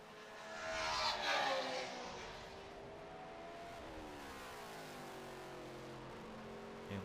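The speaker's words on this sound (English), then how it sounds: "These cars sound so good here at Lime Rock because we're kind of in a valley of hills." Trans Am race cars run at Lime Rock circuit in a valley of hills, a distant engine roar rising and shifting through the gears, steady and moderately faint, with no talking.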